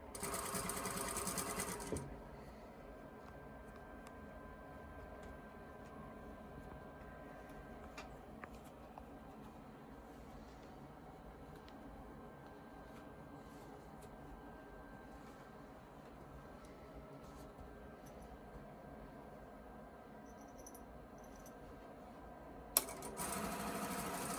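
A sewing machine stitching a fabric scrunchie runs quietly and steadily for about twenty seconds at low volume, framed by brief louder moments at the start and end.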